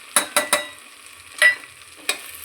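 A spoon mixes red chilli powder, turmeric, moringa powder and coriander powder in a pan for masoor pulao: three quick close scrapes, a longer scrape, then one more after a quiet gap, with no talking.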